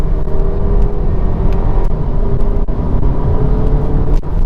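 A 2019 Audi Q3 engine drones steadily at high revs, around 4,500 RPM, a loud gritty rumble holding constant with no voices.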